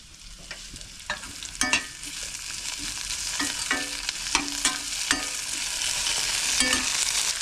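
Tomatoes sauté in a pan for a village-style kuzhambu, giving a steady sizzle with repeated scraping stirs of a spatula, close and moderately loud, with no talking.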